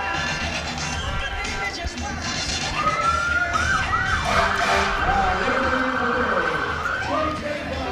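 Sirens from fire department vehicles rolling through a St. Patrick's Day parade in Utica, rising and wailing over a steady outdoor crowd din that stays loud throughout.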